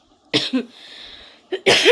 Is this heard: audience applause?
no